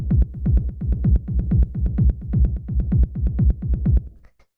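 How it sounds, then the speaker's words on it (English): A techno bass line built from a filtered kick rolls in a fast, continuous throbbing pattern of deep, pulsing low notes with a buzzy edge, steady and loud throughout before cutting off abruptly near the end. "After that, we have the bass line"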